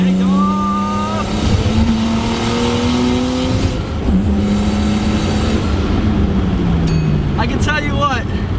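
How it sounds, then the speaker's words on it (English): 1989 Nissan Skyline R32 GTS-T turbo car accelerating hard, the engine rising through several gears with each pull climbing in pitch, loud and close, with a driver talking over it and a brief squeal near the end. "Building boost, take off!"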